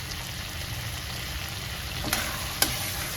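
Mutton curry with masala stirred and frying in a pan, a steady close sizzle with two sharp spoon clinks near the end, no talking.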